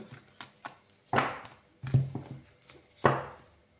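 Tarot cards being cut and shuffled by hand: a few soft slaps and riffling taps in an irregular rhythm, close and fairly quiet, with no talking.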